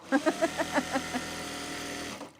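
A sewing machine runs through a short burst of stitching on men's pants, with about seven quick, evenly paced pulses of the motor and needle up close, then a steady hum that trails off.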